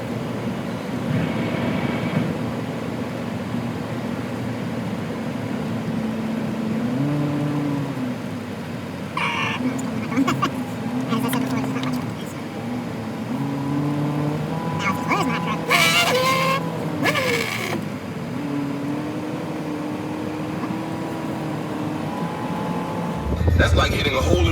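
A pickup truck engine hums steadily while driving up a hill on a back road, its pitch shifting as it accelerates and eases off, with a person talking over the drone throughout.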